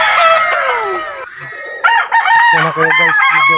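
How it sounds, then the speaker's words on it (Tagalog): A rooster crows loudly nearby, followed by hens clucking in quick bursts while a person briefly speaks. "maingay kasi mayroong manok"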